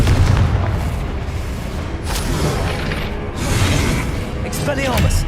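Confringo spell blasts in Hogwarts Legacy boom and shatter in quick succession, loud and near, with rattling debris and mechanical clatter between several heavy impacts.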